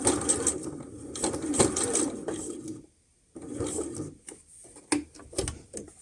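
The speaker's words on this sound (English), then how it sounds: "I'm going to straight stitch and just sew up" A sewing machine straight-stitches fabric while a slip is being sewn. Close, rapid mechanical chatter runs in bursts, with one brief silent pause midway and uneven stops and starts toward the end.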